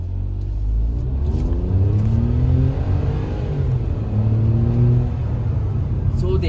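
A remapped Hyundai i20 N Line with a Superchips Stage 1 tune accelerates hard in first gear, its engine note climbing in rising sweeps as it pulls. The rumble is loud and heard from inside the car.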